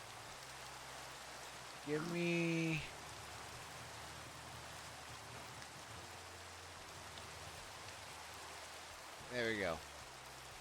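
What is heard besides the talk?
rain in Minecraft, a video game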